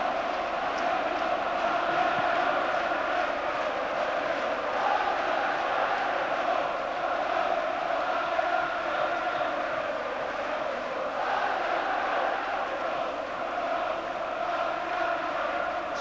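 Roaring football crowd at Newcastle United v Leicester City, a dense, steady wall of cheering and chanting from a packed stadium, sustained throughout.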